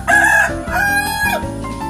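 A rooster crows loudly and close in a chicken coop holding one cock and four hens, a single full cock-a-doodle-doo with a few clucks at the end.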